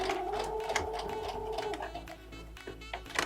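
A sewing machine back stitching a fabric seam in a textiles class, giving a steady, fairly quiet mechanical whir with rapid needle clatter throughout, without talk.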